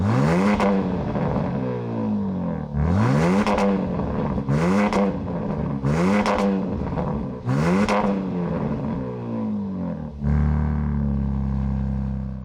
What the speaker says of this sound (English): Take a listen to the Hurricane six-cylinder.